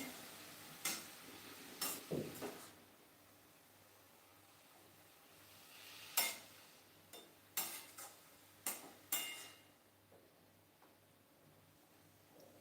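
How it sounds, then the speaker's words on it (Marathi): Chopped dill greens are stir-fried in oil in a pan on a gas stove, with sharp spatula scrapes and knocks at irregular intervals over a faint background hiss, close by and without speech. "गॅसवर भाजी परतून घ्यायची"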